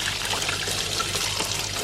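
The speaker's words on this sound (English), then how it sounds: "And literally all I do is I just rinse them with water." Running water pours steadily over bath bomb moulds as they are rinsed, a continuous splashing trickle close by with no pauses.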